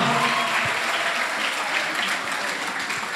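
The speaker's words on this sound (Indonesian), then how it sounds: "Wow, tepuk tangan dulu dong" Audience clapping at a school talk show with young champions, a dense, even burst of applause that stays loud throughout with no talking over it.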